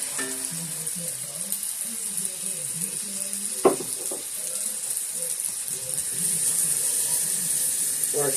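Water running from a kitchen tap while a spoon is rinsed off during cooking of stuffed shells, a steady broadband hiss with a brief clatter partway through and a voice talking over it.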